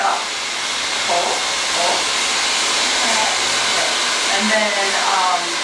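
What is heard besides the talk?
hair dryer blowing while round brushing hair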